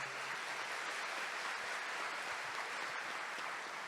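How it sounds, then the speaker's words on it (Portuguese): A church congregation claps after the Gospel reading at a Catholic Mass, a faint, even, sustained patter of many hands from a distance, with no voices over it. "Vamos aplaudir a palavra de Deus."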